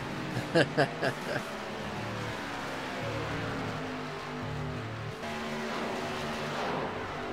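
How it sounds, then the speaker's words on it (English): Xfinity stock cars storm around Talladega in a racing video game, a steady blended engine drone with shifting tones and a few short sharp bursts near the start. "Listen to these cars, man, the sights and sounds, these bad boys, man, storming around this track."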